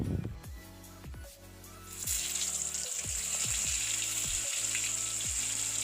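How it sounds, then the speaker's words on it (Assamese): Pointed gourd pieces hit hot mustard oil in a wok and burst into a loud, steady sizzle that carries on after a quieter start. Repeated metal clinks of stirring sound over it. "তেলখিনি ভালদৰে গৰম হোৱাৰ পিছত মই ইয়াত পটল কেটা দি দিছো"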